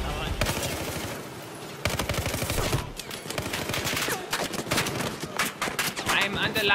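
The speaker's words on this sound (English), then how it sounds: "I'm under lots of fire" Rapid gunfire in the video game Battlefield 4 crackles in dense automatic bursts and scattered single shots throughout, fairly loud, with a player's voice talking over the combat.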